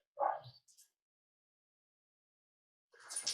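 Two dogs, a huge 175-pound dog and a red Irish setter, playing in a workshop: a couple of sharp close yips and barks, then a pause and a fresh scuffle of barking.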